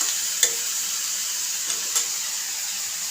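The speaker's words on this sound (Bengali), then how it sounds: "বেগুন দিয়ে দিয়েছি। এখন নেড়ে মিশিয়ে নেব।" Eggplant and kechki fish frying in a pan, a steady bright sizzle and hiss running throughout, with a few soft scraping stir strokes near the start and again near the end; no talking.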